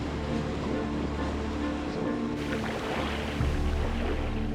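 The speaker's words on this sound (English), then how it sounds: "finally, I see the ocean" Ocean waves washing steadily against a rocky shore, a continuous broad roar with a surge near the end, heard alone without talk.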